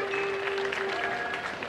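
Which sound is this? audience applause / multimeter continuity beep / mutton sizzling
audience applause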